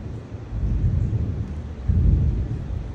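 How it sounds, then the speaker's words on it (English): Low thunder rumbles in two rolling swells, deep and moderately loud, with no talking over it. "Do you hear that thunder?"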